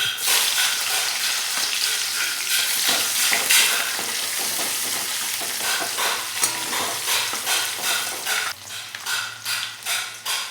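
Onion frying in hot oil just after a bay leaf tempering, a loud steady sizzle broken by repeated scraping and stirring strokes, with a short quieter stretch near the end.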